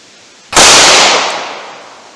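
One loud, close snub nose revolver shot fired at a target 35 yards away, a sharp crack with a long decaying echo trailing off outdoors, no talking.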